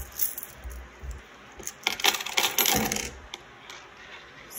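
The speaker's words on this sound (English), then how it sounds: "Get our coin jar. You can just dump out a few." A handful of mixed coins is dumped out of a coin jar onto a surface, a dense metallic clatter peaking for about a second, then scattered clinks as they settle.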